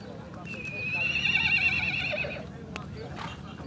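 At a horse fair, a horse gives a loud, wavering whinny lasting about two seconds amid a busy crowd murmur, with hooves clopping faintly nearby.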